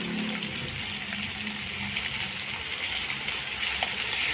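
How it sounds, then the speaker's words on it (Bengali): Tap water pours steadily while hands are washed, a continuous broadband gush and splash at close range with little change. "আমি হাতটা একটু ধুয়ে নিই"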